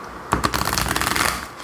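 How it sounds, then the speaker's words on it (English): An oversized tarot deck is split in half and riffle shuffled, giving a quick fluttering burst of cards snapping together for about a second, close and alone. "It's a little large to riffle shuffle, but I'll try."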